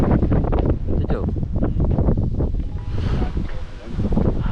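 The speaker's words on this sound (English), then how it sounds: "the wind is pretty hardcore" Strong wind buffeting a microphone outdoors on a lake during a very windy day while rowing a boat, a loud steady roar with gusty surges throughout.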